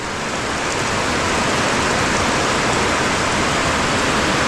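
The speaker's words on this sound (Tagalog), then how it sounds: "sa panibagong ulan na iyong pinagkaloob." Heavy tropical rain pours steadily in a loud, unbroken wash of hiss and splatter that neither pauses nor fades.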